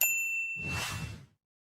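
A bright notification bell rings once with a clear metallic ding and a shimmering tail that cuts off after about a second and a half, with silence afterward.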